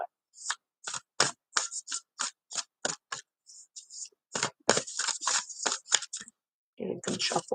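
A deck of cards is shuffled by hand, producing a run of crisp riffling and snapping bursts in an uneven rhythm, close and clear with brief pauses between flurries.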